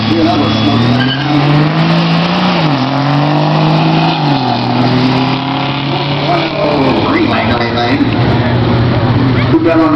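A big truck and a Ford Mustang drag racing, loud engines revving and rising through gears with tire squeal, accompanied by a steady roar while a person talks over the noise.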